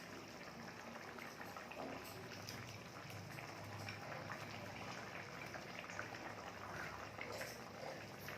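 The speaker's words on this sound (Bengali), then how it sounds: "ঝোলটি আমার 5 মিনিট ফুটে গেছে।" A pot of rohu fish curry with raw mango bubbles on the stove, a faint, steady simmering hiss with soft popping, quiet and continuous throughout.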